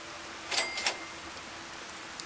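Steady rain hiss in the video game Fallout: Tale of Two Wastelands, broad and continuous, with a few brief sharper splashes or clicks early on and no voices.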